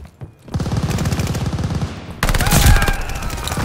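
Automatic gunfire in Call of Duty: Vanguard, rapid bursts rattling close and loud, then a heavier, denser volley with explosions and chaotic battle noise filling the second half.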